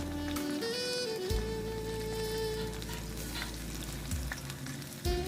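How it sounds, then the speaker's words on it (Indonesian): Steady, loud sizzling of sweet potatoes deep-frying in plenty of hot oil over medium heat, a dense crackling hiss with a low hum underneath, continuous throughout. "goreng dalam minyak banyak yang sudah panas dengan api sedang"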